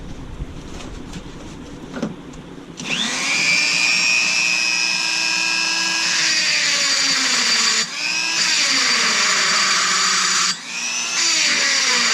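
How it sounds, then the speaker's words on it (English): A die grinder grinds out a gouge in a solid steel die with a loud, steady high-pitched whine that starts abruptly after quieter rustling and dips briefly twice, close up and with no talking. "I'm taking the die grinder and I'm grinding out a big gouge here and here"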